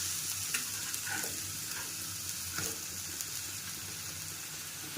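Homemade pizza fries in a covered pan on the stove with a low, steady sizzle and occasional faint crackles and ticks, heard quietly and alone.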